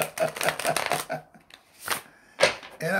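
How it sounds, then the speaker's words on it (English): Tarot cards are shuffled and handled up close in a quick flurry of riffling and flapping bursts, pausing briefly before a few more crisp card slaps, with no talking. "I'm going to pull 12 cards in"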